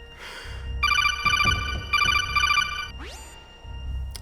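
An electronic telephone ringtone trills loudly in repeated bursts from a call line, followed by a rising electronic sweep and a click, with a low background hum throughout.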